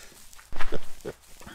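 Two short, close pig grunts from the Minecraft-like game MineClone2, a low snorting pair in quick succession over quiet background.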